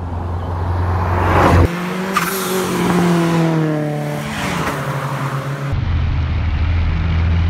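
A Lancia Delta Integrale 8-valve turbo hatchback is driven, its engine droning steadily from inside the cabin, rising and falling in pitch through shifts and throttle changes.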